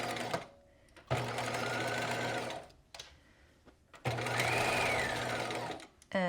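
Sewing machine stitching a 2.5 mm wide by 2.5 mm long zigzag seam on a knit jewel neck top, running in two steady close bursts with short pauses and light handling between them.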